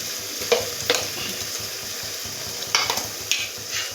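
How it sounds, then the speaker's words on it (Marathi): Ground spice paste (vatan) for Kolhapuri misal fries in oil with a constant soft sizzle. A spoon scrapes and stirs through it in several sharp strokes, with clusters near the start and the end. "जे वाटण आहे ते तेलामध्ये एकदम फ्राय करायचं आहे त्याला"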